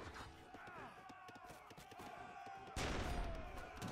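Heavy cannons fire in a strategy video game battle with war wagons nearby: a rapid rattle of shots, then a sudden broad, louder blast near the end, all fairly faint in the mix.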